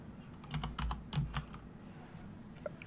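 Fingers tapping a computer keyboard during a live stream, a quick burst of several close keystrokes in the first second and a half, then near silence with faint room noise.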